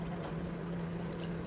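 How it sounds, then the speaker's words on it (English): Water poured into a bowl while preparing eggs for steaming in a rice cooker: a steady, fairly quiet stream of liquid that runs without a break, with a low hum beneath it. "First, add some water to a bowl."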